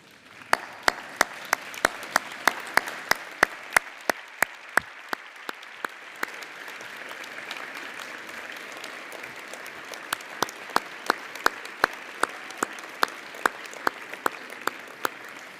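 Audience at a university graduation ceremony applauding graduates' families, a steady wash of applause lasting throughout with sharp individual claps standing out, moderately loud and without speech.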